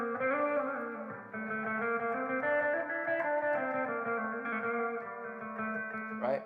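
A maqam phrase played plainly without bending the second degree, heard as a quiet melodic line of sustained, connected notes with a soft reverberant tail and no talking.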